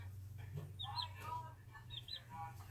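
Chickens in a chick cam setup cluck softly and intermittently at a distance, over a low steady hum with faint background voices.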